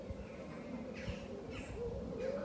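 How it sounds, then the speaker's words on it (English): Crows call in a cemetery in Haworth, West Yorkshire, giving three faint, spaced caws over a steady wash of background noise. "it's the noisy birds, it's crows"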